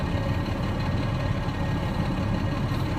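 A tractor engine idles steadily during a road test, a continuous loud low rumble with vibration and no break across the whole stretch.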